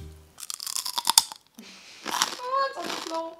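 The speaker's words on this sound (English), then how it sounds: "Let me give you guys that ASMR crunch right up in the camera." A close-up bite into a Danish bar snack gives a few sharp, dry crunches followed by chewing, heard between short bursts of nearby talking.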